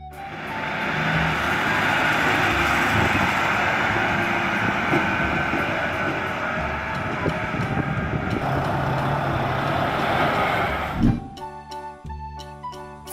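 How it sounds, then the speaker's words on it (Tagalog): An off-highway truck's engine drones loudly and steadily, then gives way to a series of sharp, evenly spaced reversing beeps near the end. "Off-highway truck."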